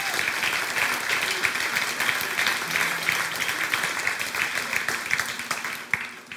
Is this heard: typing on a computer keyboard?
no